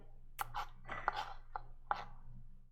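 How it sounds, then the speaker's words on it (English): A knife chopping onions on a board while making chicken noodle soup: a handful of crisp, irregular cuts close by, with short pauses between them. "how are you not crying when you're chopping up onions?"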